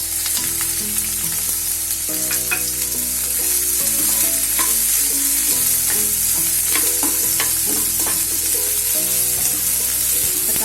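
Onion and green chili fry in a pan, a loud, close, unbroken sizzle with light stirring scrapes layered over a low background hum.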